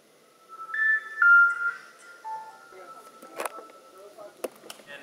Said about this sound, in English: Did you know your cell phone makes a musical thing when you turn it off?